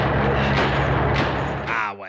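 Several gunshot bursts ring out over a busy score from a 1980s slasher film, followed by a brief swooping tone at the end.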